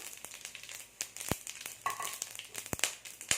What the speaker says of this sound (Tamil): பட்டை கிராம்பு ஏலக்காய் சோம்பு பிரிஞ்சி இலை எடுத்து வச்சுருக்கேன் இது எல்லாமே போட்டு தாளிச்சிடலாம்